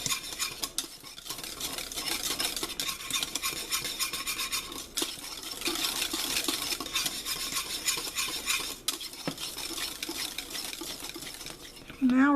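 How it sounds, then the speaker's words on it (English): Banana cream pie filling, a pudding-like mixture, is stirred steadily in a pot with a utensil scraping and clinking against the sides, giving a continuous close-up swish with a faint sizzle underneath. "you just want to stir, stir, stir, because you want your pie to be creamy and not gritty"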